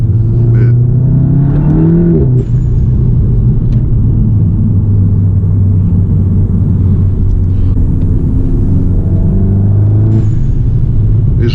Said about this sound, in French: Vous dites-moi ce que vous pensez du bruit du dump valve